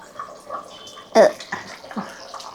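Dried-fish curry with vegetables bubbling in a covered pot on the stove, a soft wet simmer with one louder splashy burst partway through.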